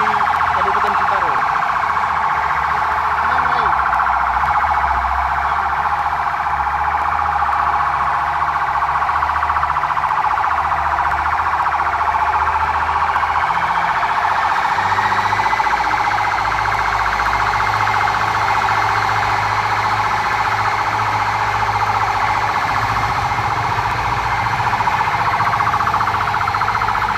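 A fire engine siren wails continuously and loudly during disinfectant spraying by two fire trucks in a town street in Sitaro regency, a steady rising-and-falling tone over rumbling engine noise.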